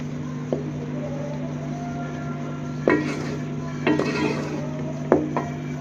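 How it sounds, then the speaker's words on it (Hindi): Intermittent scraping and clinking of a spatula stirring onions in mustard oil in a frying pan, a few distinct strokes over a steady background hum. "अभी हम चलाते जाएंगे प्याज को।"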